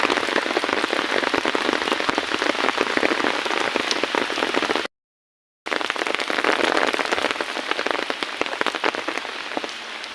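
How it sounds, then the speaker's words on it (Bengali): Heavy rain pours onto an empty road in the morning, a loud, dense, continuous patter that cuts out briefly midway before resuming just as strong. "অনেক বৃষ্টি হচ্ছে"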